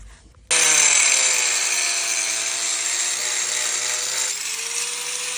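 An angle grinder cuts a groove into a seized bolt so it can be gripped with a vice clip, a loud, steady high-pitched whine starting abruptly and holding for several seconds with a slight drop in pitch near the end.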